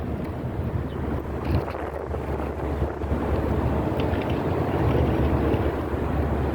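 Yacht passing on Hong Kong harbour at Kowloon City, a steady low engine rumble and water wash heard under gusting wind noise across the microphone, continuous and moderately close.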